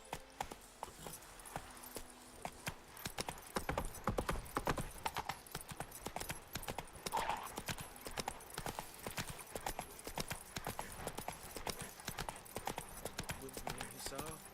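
In Witcher 3, the horse Roach gallops in a fast, continuous drumming of hooves, heard close and fairly loud, with a person talking over part of the run.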